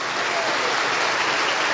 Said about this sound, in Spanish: si le va a dar el aplauso al Señor,